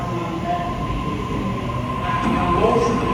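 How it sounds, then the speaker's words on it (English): A train on Sydney's North Shore Line rumbles into a station platform with a continuous low roar and faint metallic whine, steady and fairly loud throughout. "The train will arrive on platform 4 in all stations to Hornsby service"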